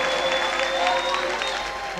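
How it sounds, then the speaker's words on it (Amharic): A church congregation in Johannesburg, South Africa, applauds in a dense, steady roar of many hands clapping together, loud and unbroken throughout. "ጭብጨባ ለናዝሬቱ ኢየሱስ"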